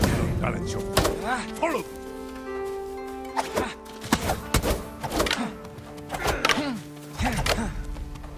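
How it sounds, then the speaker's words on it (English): Heavy sword strikes from Jin Sakai in the samurai game Ghost of Tsushima land as repeated loud thunks and clangs over a tonal music bed, several sharp hits spaced across the stretch with brief pauses between. "Break my block with a heavy attack and strike quickly."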